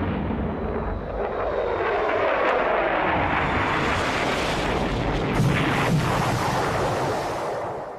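Military planes roar low overhead above a naval ship in 1975, a loud continuous jet rumble that swells and shifts in pitch as they pass and turn away, with a dull boom partway through.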